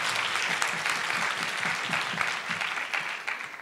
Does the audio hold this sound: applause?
yes